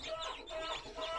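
Broiler chickens cluck and chirp close by in quick repeated bursts, several birds overlapping for a short moment.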